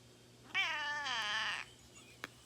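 A pet cat gives a single drawn-out meow, clear and close in a quiet room, followed by a soft click.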